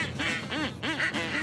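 Several ducks quacking close by in a few quick, nasal calls, a short burst of honking quacks with no talk over it.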